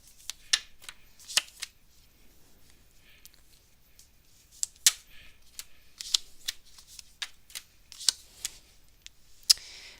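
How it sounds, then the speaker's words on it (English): Tarot cards are shuffled during a live reading, sharp crisp riffles and slaps coming in irregular bursts close by, with quiet background otherwise. "Let's stop shuffling these cards and let's go and get your answer over here."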